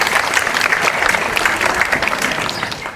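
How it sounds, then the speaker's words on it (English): An audience breaks into lively, sustained applause welcoming a singer as she comes up to sing the national anthem, with sharp individual claps standing out from the steady wash. "Everybody give her applause"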